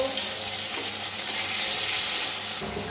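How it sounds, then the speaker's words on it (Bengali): Eggplant frying in a pan of fish oil gives a loud, continuous sizzle and hiss heard close up. The noise stays dense and steady and shifts a little near the end, and there is no talking. "বেগুন ভেজে নিচ্ছি"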